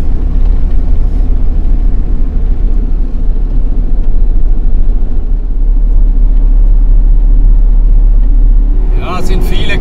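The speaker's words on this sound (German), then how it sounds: "So, jetzt fahre ich ein Weilchen auf der Küstenstraße" Car cruising along a coastal road in Tuscany's Maremma, a loud constant low engine and road rumble filling the cabin, with a person talking over it.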